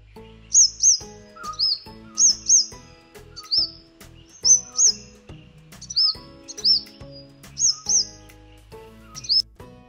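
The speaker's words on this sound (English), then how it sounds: "Purple rumped sunbird" Purple-rumped sunbird calling in a garden, giving repeated high, thin, sharp chirps in a steady rhythm, loud and close against a quiet background.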